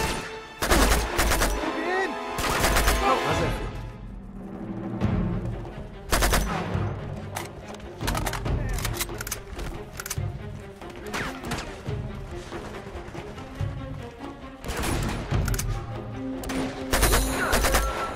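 Cover-shooting gunfire in the video game Uncharted, loud bursts of rapid automatic fire and single shots in repeated clusters, with impacts and crashes between volleys.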